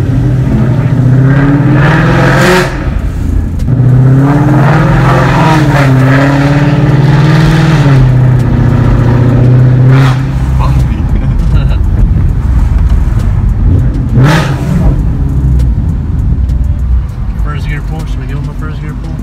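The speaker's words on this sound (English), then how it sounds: "so you guys can hear the headers and the way this the car sounds with the setup I have on it" A modified 2017 Ford Mustang GT Premium with headers rumbles and revs loudly while driving, its engine note rising and falling throughout, with people talking over it.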